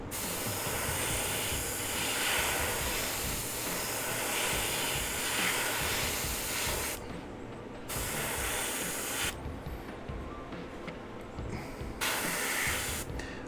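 An airbrush sprays metallic paint thinned half-and-half with Liquitex airbrush medium onto a model Covenant heavy cruiser. A steady, close hiss runs in long bursts broken by brief pauses, with no voices.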